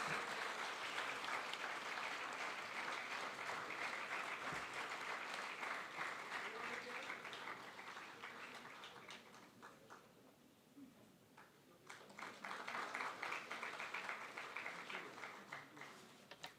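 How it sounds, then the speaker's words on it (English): A conference inauguration audience applauds continuously, the clapping thinning out midway before swelling again into a full round of applause. "huge round of applause."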